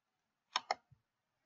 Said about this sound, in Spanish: Hago un clic aquí en la parte externa